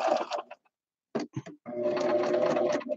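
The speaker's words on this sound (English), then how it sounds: "we're just going to sew a little circle in the center" A sewing machine stitches a small circle in quilt fabric in short bursts, running briefly, pausing, then whirring steadily through the last stretch, close and fairly loud.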